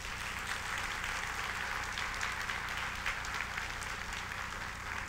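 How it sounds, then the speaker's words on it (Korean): Audience applause at a bank executive inauguration ceremony in Vietnam, a steady dense wash of clapping holding evenly for several seconds with no voices over it. "박수 한번 부탁드릴게요"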